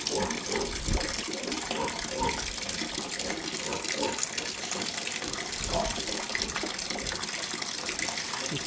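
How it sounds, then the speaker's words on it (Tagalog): Water gushes steadily from a tap into a trough for pigs to drink on a farm, a continuous splashing pour heard close up, with faint animal or background sounds underneath. "Lagyan natin ng tubig."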